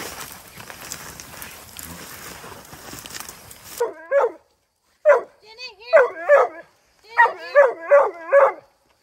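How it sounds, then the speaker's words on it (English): Coonhounds treeing a raccoon at night bark and bawl in a run of loud, close yelps and bays, starting after a stretch of rustling noise and coming in bursts. "try and get them dogs on that right tree and get them treeing good"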